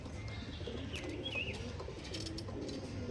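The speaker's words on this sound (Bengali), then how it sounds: "চলে আসলাম লাস্ট জোড়া নিয়ে যে পায়রা এখন পাওয়া যায় না বললেই চলে" Soft pigeon cooing in a few low, throaty phrases, fairly close, over a steady background hum.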